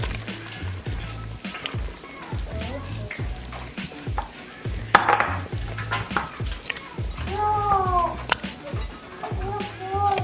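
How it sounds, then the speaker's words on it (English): Potatoes go into a simmering pot of caldo de res beef soup, giving a steady bubbling and sizzling stir with soft knocks and splashes. A voice speaks intermittently over it. "I'm gonna throw the potatoes in."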